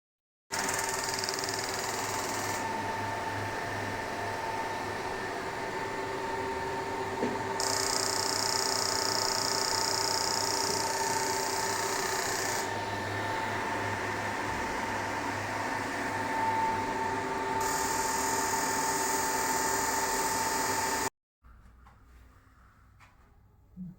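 A pelvic floor strengthening machine hums steadily with a constant mechanical drone, its tone shifting in regular cycles every few seconds before it abruptly cuts off near the end, leaving faint room noise.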